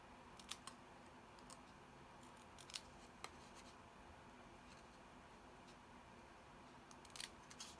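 Scissors snip designer series paper in a few sharp, close clicks scattered over a steady low room hum, cutting a shape out for a stamped card.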